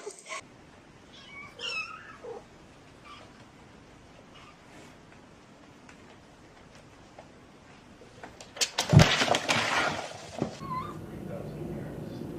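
A cat meows in a few short calls early on, fairly close, followed by a louder burst of rustling or scraping noise near the end, with a person talking in the background.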